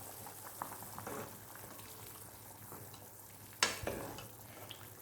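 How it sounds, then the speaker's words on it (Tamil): Drumstick leaf soup with onion juice and water boils in an uncovered pot, giving a faint, steady bubbling simmer close by, with a couple of sharp clinks midway. "ஓப்பன் பண்ணி இப்போ நல்லா கொதிக்கிட்டு பாருங்கள்"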